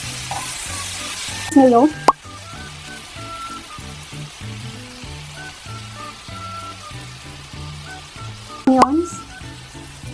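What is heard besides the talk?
tofu and hotdog frying in a pan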